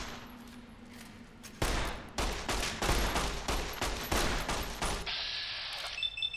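Rapid bursts of gunfire from Fallout: New Vegas crack out in a dense, loud volley lasting several seconds, each shot close and punchy, ending as a higher-pitched tone takes over.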